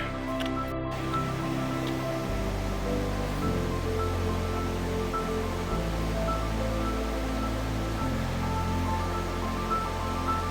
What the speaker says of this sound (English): this is the water that's coming off of the Piute Basin